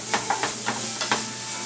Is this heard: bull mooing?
no